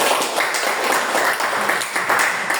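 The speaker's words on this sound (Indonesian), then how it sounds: "Oke, tepuk tangan untuk kelompok." Students in a Catholic religious education classroom applaud a presenting group, giving steady, fairly loud clapping throughout.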